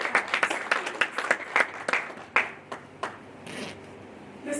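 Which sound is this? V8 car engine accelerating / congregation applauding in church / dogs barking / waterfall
congregation applauding in church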